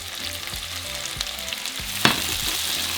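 Tomatoes dropped into a pan of frying onion and jalapeno, giving a continuous close sizzle with a few dull stirring knocks and one sharper clack.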